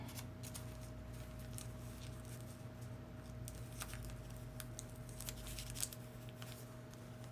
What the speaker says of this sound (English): And we'll cut them out and get them stitched down.